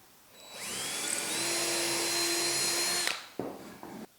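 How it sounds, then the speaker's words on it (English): A power drill pre-drilling holes in reclaimed wood for a chicken nesting box whirs steadily for a few seconds, close and loud, then winds down, followed by a couple of short bursts. "You're gonna want to pre-drill your holes to keep your wood from splitting."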